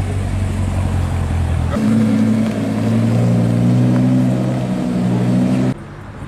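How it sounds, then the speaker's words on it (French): A new blue BMW M5 fitted with a big non-factory aftermarket exhaust rolls past at a cars-and-coffee meet, giving a steady, loud, deep engine drone that shifts pitch midway and cuts off abruptly near the end. "regardez la nouvelle M5 là qui arrive en bleu. Ouh, joli bruit en plus. Ah, gros pot, ça c'est pas d'origine."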